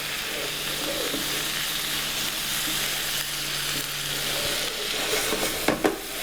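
Brussels sprouts with pancetta and shallots sizzle in oil in a pan, a close continuous hiss, then a few sharp scrapes and knocks near the end as they are stirred.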